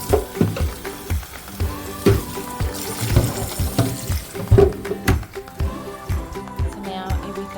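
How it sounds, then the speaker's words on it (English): Coffee machine base tray being rinsed under a running kitchen tap, with irregular splashing and clunks of the tray against the sink, fairly close and continuous. "empty out the actual base tray. Just wash it down."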